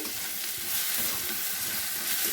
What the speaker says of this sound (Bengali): সম্বার মশলাটা দিয়ে একটু ভেজে নিয়ে নামিয়ে ফেলবো